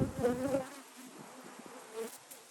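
Honey bees buzzing around a caught swarm's hive, a busy layered hum that is loudest in the first half second, then settles into a steadier, fainter drone with a brief swell near the end.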